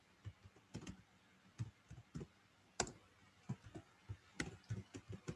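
Code typed on a computer keyboard during a Java programming lesson: a steady run of close, crisp keystrokes in short uneven bursts, with no voice over it.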